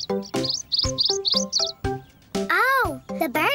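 Short, high cartoon-style bird chirps come in quick repeated bursts, mixed with a voice and a bright, wavering tone, all close and lively.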